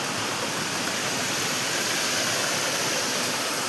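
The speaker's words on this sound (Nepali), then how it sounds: "यहाँ हुन्छ आमा खोला बगिरहेको छ।" A rain-swollen river rushes past close by, a loud, continuous roar of flowing water with no breaks.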